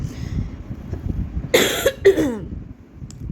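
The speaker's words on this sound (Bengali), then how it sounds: "আমার গলা শুনে বুঝতেই পারছো, কাশি শুনে, যে শরীর প্রচণ্ড খারাপ এখন অবধি" A sick woman gives two sharp, close coughs in quick succession over a low background rumble, the second trailing into a raspy exhale.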